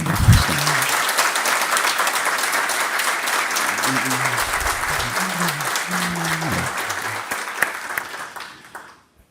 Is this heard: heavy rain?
no